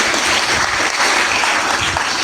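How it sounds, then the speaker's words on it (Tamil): A church congregation at St. Michael's Church in Tharuvaikulam breaks into dense, loud applause that holds steady for a couple of seconds. The many hands merge into a continuous roar. "தயவுசெய்து கைத்தட்டுங்க."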